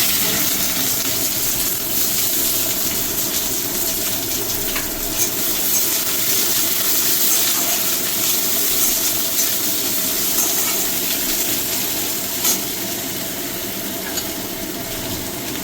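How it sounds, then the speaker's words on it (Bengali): Onions and a pinch of cumin seeds tempering in hot oil in a kadai for chicken moglai, giving a steady, loud, broadband sizzle and hiss that holds unbroken throughout with no voices. "কড়াতে আমি তেল দিয়ে দিয়েছি, দেবো একটু সামান্য জিরে ফোড়ন, এবার দেবো আমি পেঁয়াজ।"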